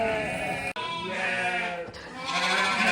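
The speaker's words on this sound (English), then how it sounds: "going into a different field now to grab another group of sheep" A group of sheep being gathered from a field for shearing bleats loudly and almost continuously, several overlapping voices close by.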